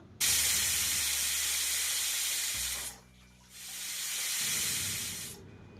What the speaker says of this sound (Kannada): ಕುಕ್ಕರ್ ಮುಚ್ಚಲ ಮುಚ್ಚಿ ನಾಲ್ಕರಿಂದ ಐದು ವಿಸಲಷ್ಟು ಕೂಗಿಸ್ಕೊಳ್ಬೇಕು